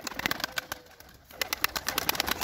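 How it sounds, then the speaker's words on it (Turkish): Young pigeons with their wings newly opened fly alongside older birds, with repeated soft wing flaps and fluttering bursts close by and a faint coo-like call in the mix. "Bakın büyük kuşlar gidiyor, tamam."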